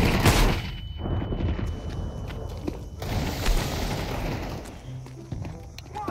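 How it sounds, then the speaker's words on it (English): Gunfire in the video game CS:GO, with rapid dense shots and bursts through a continuous loud mix, footsteps and other game effects layered in, and voices talking over it. "Shots fired! Shots fired!"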